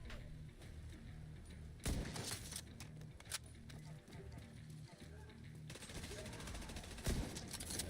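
Gunfire in The Division 2, a few sharp shots standing out above a steady bed of in-game ambience and rattling, the loudest bursts near the two-second and seven-second marks.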